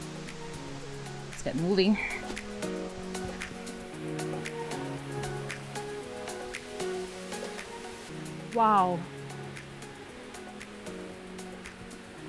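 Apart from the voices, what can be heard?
waterfall cascading down rocky slopes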